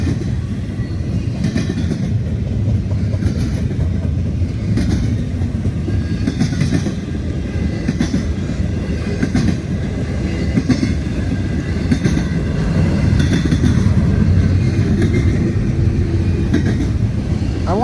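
A freight train rolls past close by in wet weather, a loud continuous rumble with rhythmic clickety-clack of wheels over rail joints.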